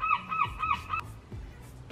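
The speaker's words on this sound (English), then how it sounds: "there's lots of birds just flying around, making lots of noise" Geese honk repeatedly by a beach, several loud, harmonic calls overlapping in the first second before trailing off into faint background noise.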